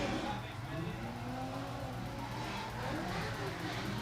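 A BMW drift car's engine drones steadily at a drift event on a speedway, a distant continuous roar with faint tire noise, fairly quiet throughout.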